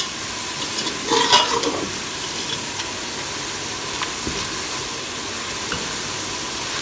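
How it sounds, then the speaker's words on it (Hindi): Onions fry in oil for haleem, a steady loud sizzling hiss with a brief burst of stirring early on, then an even bubbling fry. "प्याज हमारे लाइट ब्राउन हो गए हैं।"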